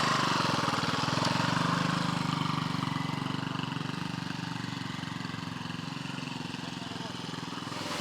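A small old Honda motorcycle engine idles steadily nearby with a constant mechanical putter and hum, holding an even rhythm throughout.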